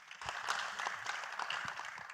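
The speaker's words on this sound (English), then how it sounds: "please give them a round of applause." An audience at an Africa forum on smart green cities applauds the panelists after a panel session, scattered clapping at moderate distance, fairly soft and uneven.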